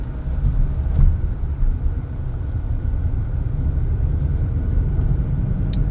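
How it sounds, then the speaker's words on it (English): Steady low rumble from a 2016 Hyundai Elantra with a worn wheel bearing while driving, a continuous droning hum of road and cabin noise with no voices. "that rumble is a wheel bearing, or it's a wheel bearing noise"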